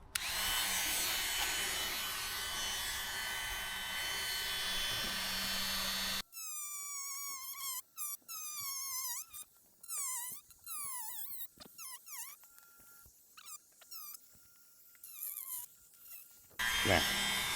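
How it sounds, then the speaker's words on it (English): Dremel rotary tool with a cutoff disc cuts through a plastic fender, the high whine rising and falling in short bursts with pauses between cuts, close and loud. "So we got our Dremel, got a cutoff disc."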